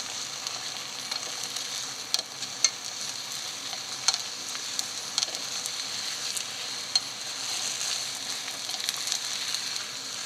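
Beaten eggs for a Japanese-style rolled omelette sizzle steadily in a hot pan, a bright continuous crackle with occasional sharp pops, close and moderately loud, no talking.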